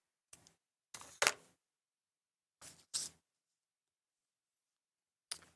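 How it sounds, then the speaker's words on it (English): Paper being trimmed for a handmade Thanksgiving place card, heard as a few short, crisp snips spaced apart against near silence, two of them in quick succession. "I'm just gonna trim this instead of using our sandpaper"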